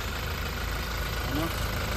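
The diesel engine of a 2018 Toyota Innova idles with a steady, continuous low rumble and even mechanical hum, close by and unchanging throughout.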